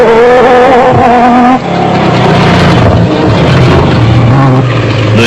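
Nissan off-road race truck driving at speed in an off-road race in South Africa, its loud engine roaring steadily with a shift in pitch partway through, along with a voice talking over the engine.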